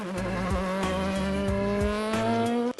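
A naturally aspirated 2-litre Duratec engine in a Ford Fiesta Super 2000 rally car revs high, a rising buzzing tone cut by several quick gearshift dips, loud and close with no talk.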